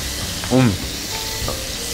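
A burger sizzles in a frying pan with a steady crackling hiss, a brief louder tonal scrape or stir sound near the start, and no clear talking.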